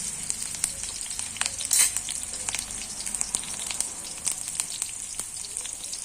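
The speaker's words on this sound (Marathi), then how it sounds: "मिरचीला व्यवस्थितपणे फ्राय करून घेऊया" Green chilies fry gently in a pan over low heat, giving a steady soft sizzle and crackle with scattered pops and one brief louder burst, with no talking.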